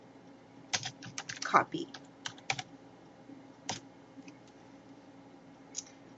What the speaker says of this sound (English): create a new line at the top of the file and type after shadow